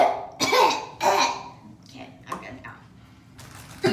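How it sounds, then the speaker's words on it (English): A few harsh coughs and throat-clearing bursts, close and fairly loud, separated by short pauses with some breathing. "She's coughing all night because of that."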